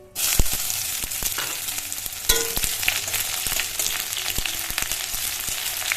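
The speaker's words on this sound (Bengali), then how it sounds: "এবার দিয়ে দেবো তেজপাতা, শুকনো লঙ্কা, তারপর দিয়ে দেবো পেঁয়াজ।" Bay leaf, dried chilli and onion hit very hot oil in a kadai, giving a loud, steady crackling sizzle with sharp pops and a fresh burst of frying partway through.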